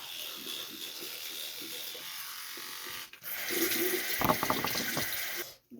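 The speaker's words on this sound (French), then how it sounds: "allez, go, je me brosse les dents." Electric toothbrush buzzing steadily with running water from a bathroom sink tap, a constant whir that grows louder and busier midway, with brief scrubbing rattles near the end.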